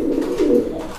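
Pigeons for sale at a market coo in a steady, close, low rolling call, with no talk over them.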